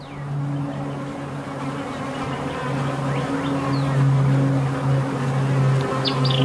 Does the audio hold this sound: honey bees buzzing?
yes